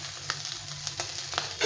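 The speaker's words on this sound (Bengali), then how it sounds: "মাছটা এক পাশে ভাজা হয়ে গেছে, এখন এগুলোকে উল্টে উল্টে ভেজে নিতে হবে।" Small mola fish frying in hot oil in a pan, a steady sizzle with several sharp crackles and spits, close and fairly loud, with no voices.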